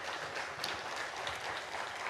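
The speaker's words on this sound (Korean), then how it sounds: "오른편에 박수 한번 주시죠." A church congregation at a navy church Sunday service claps together, a dense, even wash of applause heard at moderate distance throughout.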